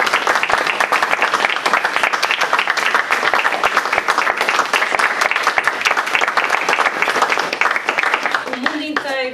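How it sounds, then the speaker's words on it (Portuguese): Loud, dense audience applause fills the room for a speaker at a talk on belief, sustained steadily throughout before fading into a few voices at the very end. "Uma salva de palmas para a Fátima."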